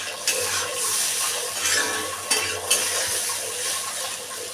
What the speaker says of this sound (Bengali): এরপরে আলু ভেজে নিচ্ছি